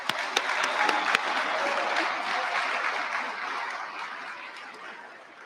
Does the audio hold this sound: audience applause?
yes